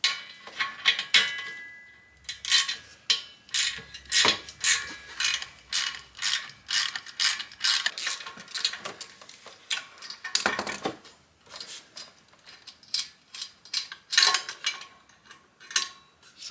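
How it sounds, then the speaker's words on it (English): A ratchet wrench clicks rapidly in repeated bursts while backing out a 12mm muffler bolt on a mini bike exhaust, close and crisp, with short pauses between runs of ratcheting. "We're going to pull this bolt out to get the muffler off."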